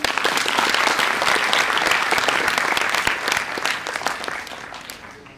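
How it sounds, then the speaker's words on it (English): A seminar audience claps steadily and loudly for about five seconds, a dense, continuous wash of many hands with no talk over it, tapering slightly at the end. "Clap for him, yeah?"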